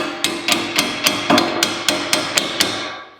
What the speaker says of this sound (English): let's get a hammer and see if we can't pop this apart